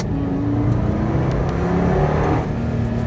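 A supercharged Subaru FB25 engine revs hard as the throttle pedal is slammed, giving a loud, dense roar with a rising whine and a slight drop near the end. It is heard up close with no talking.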